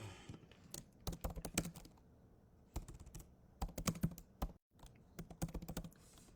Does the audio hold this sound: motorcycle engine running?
no